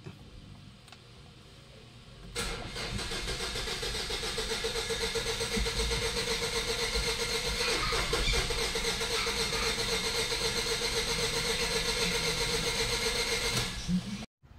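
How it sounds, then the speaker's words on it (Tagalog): A 2011 Ford Everest engine cranks and catches, then settles into a steady, close-up running drone that holds loud and even until it cuts off near the end; the cranking sounds unusually light. "Kung mapapansin nyo yung pag-cranking natin ng makina, parang sobrang gaan mga boss"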